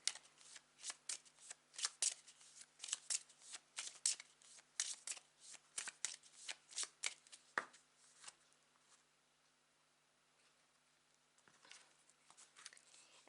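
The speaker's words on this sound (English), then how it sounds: "Let me shuffle the court card." Tarot cards are shuffled by hand at close range, a quick run of crisp papery riffles and flicks. It slows to a few scattered taps and then a quiet pause before the shuffling picks up again.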